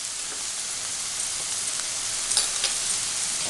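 Onions fry in a pan with chili powder and turmeric added for an Odia coconut kofta curry, giving a dense, continuous sizzle with faint stirring scrapes and no talk.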